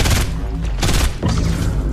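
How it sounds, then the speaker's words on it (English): Rapid bursts of gunfire in Fortnite as players shoot at the cube, loud and dense, with heavy booming impacts in a continuous volley and no pauses. "They're shooting the cube!"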